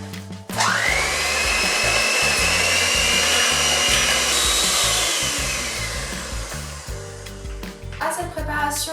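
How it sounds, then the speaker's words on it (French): Egg yolks whisked with sugar by an electric mixer for a chocolate cake, a loud steady motor whir that holds nearly the whole time before easing off near the end. "on va venir fouetter les jaunes d'œufs avec le sucre"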